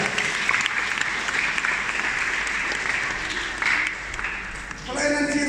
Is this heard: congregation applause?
yes